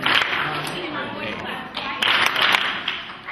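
Applause from an audience at a middle school recognition event, a dense patter of clapping that swells and surges again partway through, with a voice talking over it.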